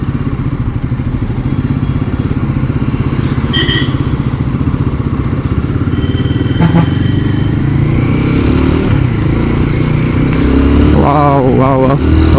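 A Royal Enfield Guerrilla 450 motorcycle pulls away in first gear, its steady engine drone loud and close throughout, with a brief voice near the end.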